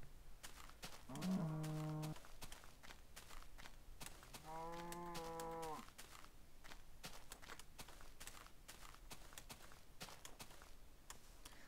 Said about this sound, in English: Lots of trapped cows, not as many chickens.